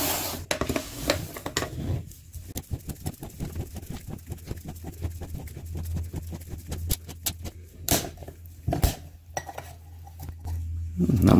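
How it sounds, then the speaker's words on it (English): A used Toyota oil filter, part 90915-YZZF1 from a 2007 Camry, being cut open with a tool, making a run of rapid close metallic clicks and scrapes, then a few sharper clanks as the canister comes apart. "let's open this filter up"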